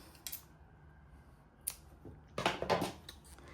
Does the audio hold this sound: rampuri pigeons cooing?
no